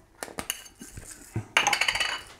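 A spoon clinks and scrapes against a bowl while stirring hummus with tahini, a few sharp taps followed by a quick run of rattling clinks, close and fairly quiet.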